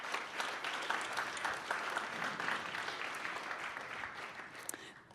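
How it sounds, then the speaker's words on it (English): An audience claps for the panelists at a panel discussion, a sustained, fairly faint patter of many hands that holds steady and then thins out toward the end. "Please give them a hand of applause."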